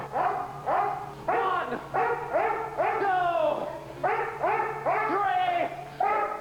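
A dog barks and whimpers in a run of sharp, pitched yelps with short pauses between them, while a voice counts aloud over the noise.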